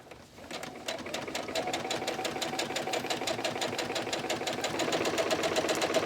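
A sewing machine stitches fabric from one hem to the other, running steadily and close at a fast even rhythm with no pauses, getting slightly louder toward the end.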